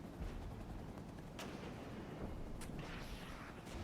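Artillery fire in the strategy game Regiments: a constant, dense rumble of distant guns, with sharp reports cracking through at about 1.4 and 2.6 seconds and no voices.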